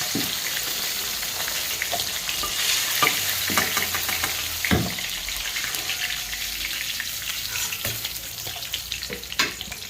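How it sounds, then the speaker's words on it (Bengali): Rupchanda fish fry in oil in a pan, a steady close sizzle broken by sharp crackles and the clink of stirring, with no voices. "মাছগুলো কিন্তু আমার সুন্দর লাল লাল করে ভাজা হয়ে গেছে।"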